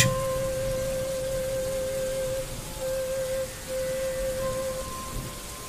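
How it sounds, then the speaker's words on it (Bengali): Steady rain falls throughout, a dense, even wash of drops with a sustained low tone running beneath it and no voices. "বৃষ্টি এখন থামেনি"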